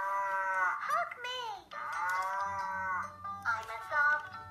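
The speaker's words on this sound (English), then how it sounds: "the really cute, cuddly little cow, which you can turn on the sound." A soft plush toy cow plays an electronic mooing sound, a few drawn-out moos with a synthetic, melodic tone, up close and loud, with no talking.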